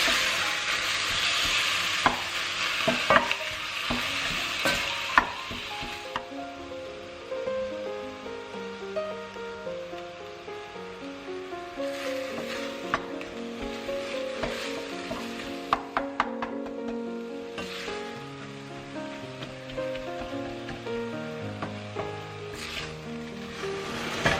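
Plant-based mince and onion fry together in a pan for spaghetti bolognese, giving a loud, continuous sizzle with repeated spatula stirs and scrapes, while soft music plays behind and no one speaks.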